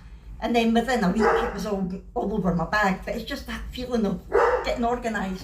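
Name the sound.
dogs barking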